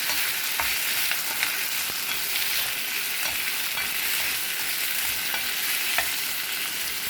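Tomatoes fry in a pan for chutney with a steady bright sizzle, while a spoon stirs now and then with faint scraping clicks. No one speaks.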